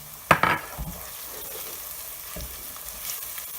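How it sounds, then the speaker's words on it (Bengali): Ground onion, ginger and garlic pastes tipped into hot oil in a frying pan on high heat for a beef and cabbage curry. A sharp clatter at the start gives way to a soft, continuous sizzle with occasional stirring scrapes, quiet and close. "এখন বাটা মশলাগুলো সব দিয়ে দেব।"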